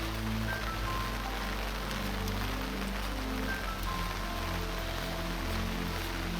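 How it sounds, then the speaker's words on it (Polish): Heavy rain pours down on a mountain trail in the Tatra Mountains, a constant dense hiss with a low steady rumble underneath, even and unbroken throughout with no talk. "leje, nic nie widać. Jedna wielka ściana deszczu."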